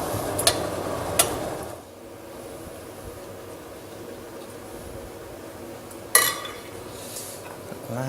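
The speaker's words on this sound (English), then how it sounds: "We're bringing that back to the boil and we're stirring in the pasta" Pasta stirred into a pot brought back to the boil on a stove, with a few sharp metallic clinks of a utensil against the pot early and later, over a low steady simmering hiss.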